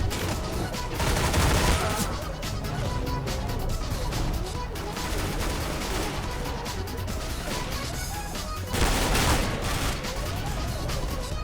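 Counter-Strike: Global Offensive gunfire keeps up a near-constant loud clatter of shots, swelling at the start and near the end, while a voice talks underneath.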